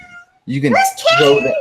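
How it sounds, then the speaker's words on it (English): A pet cat meows in a few drawn-out, rising and falling cries, close and loud, with people talking nearby. "That's my cat."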